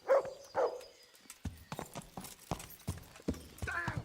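Horse hooves clip-clopping in the medieval game Kingdom Come Deliverance, a quick series of distinct hoof strikes on hard ground, close and fairly clear, preceded by a couple of short snorts or whinnies.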